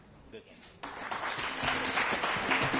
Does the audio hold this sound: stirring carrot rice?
no